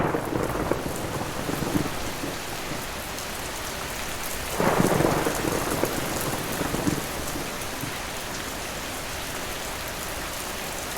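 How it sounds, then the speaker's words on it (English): Steady heavy rain pours down with a constant hiss, and a loud rumble of thunder swells through the middle before fading back under the downpour. "We are in the middle of harvest season, and the rain is falling in abundance."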